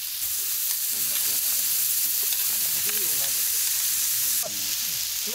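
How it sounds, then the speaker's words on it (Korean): Pork belly sizzles and fries on a grill, a steady dense crackle with small pops running throughout, with faint voices in the background. "삼겹살 익는 소리"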